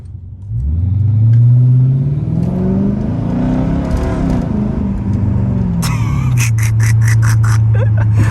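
Straight-piped Dodge Charger R/T revving close by, a loud rising and falling engine roar sustained for several seconds, settling into a deep idle near the end, with a voice briefly audible.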